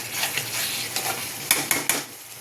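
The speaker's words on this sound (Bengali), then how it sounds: "এখন আমি ভাজা আলুগুলো দিয়ে দেব।" Omelette curry with fried potatoes being stirred and fried in a pan, a steady close sizzle with scraping stirs and a few sharp clicks of the utensil against the pan near the end.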